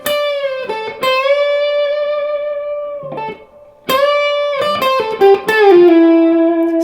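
Electric guitar playing licks 1 and 2 of a solo, sustained distorted notes with bends and slides, loud and close, a short pause midway before the phrases resume, no talking.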